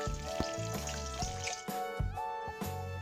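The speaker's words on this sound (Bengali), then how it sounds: "গরম মশলাটা একটু ভাজা ভাজা হতে দেব।" Whole garam masala of cardamom, cinnamon and cloves fries in oil for Kolkata-style chicken biryani, a steady close sizzle over a background tonal hum, with no speech.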